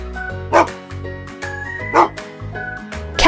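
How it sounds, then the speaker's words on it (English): A dog barks three times, short sharp yips spaced at even intervals over a low steady musical bed, each bark loud and close. "dog,"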